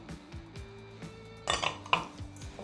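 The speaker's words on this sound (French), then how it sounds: "Je vais mélanger." Egg yolks and sugar are whisked in a bowl for a chocolate Yule log, heard as quiet scraping with a few sharp metallic clinks against the bowl.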